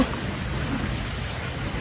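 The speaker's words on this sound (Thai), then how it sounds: "ฝนก็ยังโตอยู่" Heavy rain pours down steadily, a dense, loud, unbroken hiss of drops striking surfaces close by, with no voices over it.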